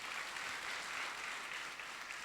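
A church congregation claps together in a steady, dense burst of applause at a ruby anniversary celebration, filling the room evenly from start to finish with no voices rising above it.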